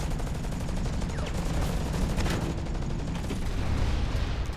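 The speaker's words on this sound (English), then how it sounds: "Got a turret shooting somebody over here." Turret gunfire in the mech shooter Hawken, rapid bursts of automatic shots firing continuously over a loud, rumbling battle backdrop, close and relentless throughout.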